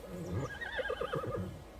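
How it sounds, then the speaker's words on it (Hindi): A horse gives a loud, close whinny with a wavering, quavering pitch lasting over a second, with faint hoof movement in the background. "आपका घोड़ा तो बहुत भूखा है उस्मान साहब।"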